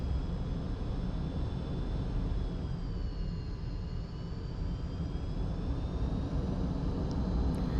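An F-5 jet taxis in the DCS flight simulator, a continuous steady engine roar with a thin high whine that shifts slightly in pitch, loud and unbroken.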